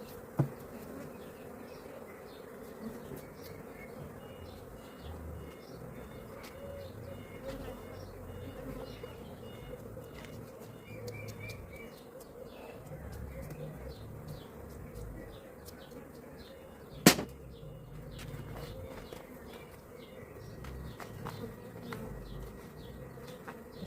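A honey bee colony hums around an open hive on a hot day: a constant soft drone of many bees with individual fliers passing near, a faint bird in the distance and one sharp knock partway through.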